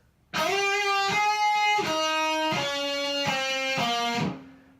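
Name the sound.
electric guitar intro riff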